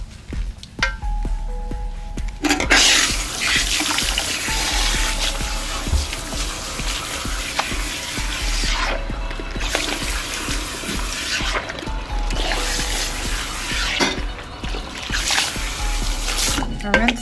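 Water runs steadily from a salon sink tap, rinsing colour out of hair, a continuous trickling and splashing stream close by with brief talk over it.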